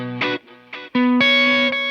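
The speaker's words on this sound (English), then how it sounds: "Tape echo." Electric guitar through a tape echo effect on a Fender Tone Master Pro modeler, over a clean pedal platform with drive: a few short plucked notes with repeating echoes, then a loud sustained chord that rings out.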